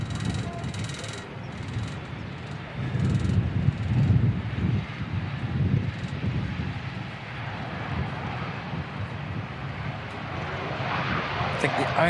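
An aircraft arriving at Christchurch airport, flight EZ5752 from Dunedin, a broad rumbling engine roar that swells and holds throughout, with people talking over it.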